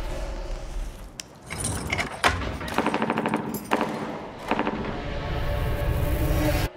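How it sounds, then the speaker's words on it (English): Sharp bursts of rapid gunfire crackle in clusters over a steady low rumble, some volleys close and loud, others trailing off, in a film trailer. "Do you hear that? We're close gunshots."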